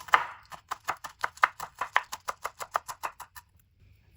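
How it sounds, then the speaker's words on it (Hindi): Knife chopping potatoes finely on a cutting board for aloo tikki, about twenty quick, evenly spaced chops in a steady rhythm, close and crisp, stopping near the end. "फिर इसकी हम इस तरह कटिंग करेंगे। ज्यादा मोटा नहीं आपने काटना, बारीक बारीक काटना है।"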